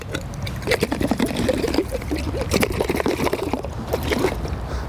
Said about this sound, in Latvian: Nu ko, nomazgāsim viņu trešo reizi